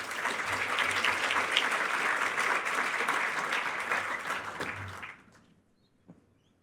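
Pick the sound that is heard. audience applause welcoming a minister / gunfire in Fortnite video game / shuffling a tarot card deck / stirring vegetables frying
audience applause welcoming a minister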